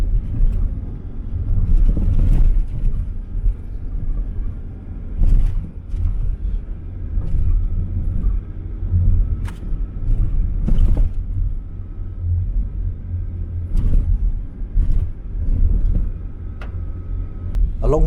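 A vehicle on an overgrown road near Pripyat in the Chernobyl zone drives straight through small fallen trees, giving a steady low engine rumble with repeated sharp cracks and thumps of branches striking and snapping against the body.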